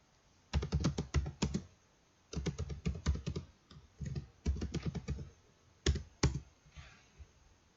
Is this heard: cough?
no